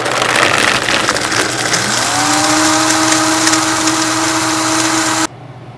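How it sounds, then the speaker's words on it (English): A kitchen blender whirs loudly through a raw soup mixture of fridge vegetables, starting on a steady roar, then the motor pitch rising and holding at high speed before cutting off abruptly. "we're gonna blend up the mixture here"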